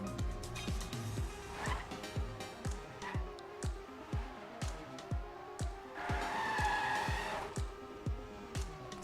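A race car in a racing video game drifts through a turn, engine pulsing in quick repeated revs with tire squeal rising midway, heard close and steady at moderate volume.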